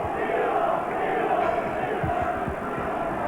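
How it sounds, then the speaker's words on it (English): Rugby league crowd at a Workington Town v Salford championship match in 1995 roars in a sustained, dense cheer, broad and steady throughout with scattered shouts rising out of the mass of voices. "and the biggest cheer of the day."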